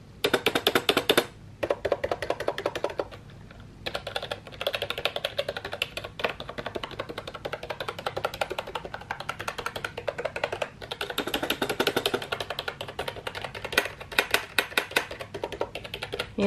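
Typing on a Dareu Dream A87 mechanical keyboard, fast bursts of clicky keystrokes close up with brief pauses between runs and no talking.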